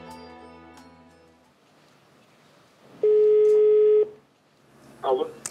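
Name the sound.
telephone line tones while calling a company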